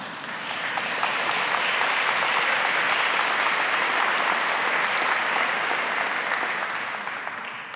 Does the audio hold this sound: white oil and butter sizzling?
no